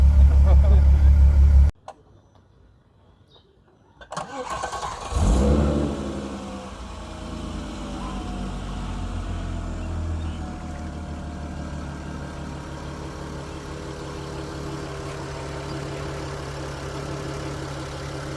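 After a brief loud thump and a pause, a Nissan Skyline R32 engine starts and idles steadily, low and fairly quiet.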